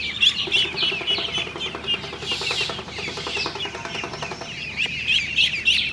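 Many ducklings peep in a busy, overlapping chorus of high chirps, continuous and close throughout, while being vaccinated against duck plague.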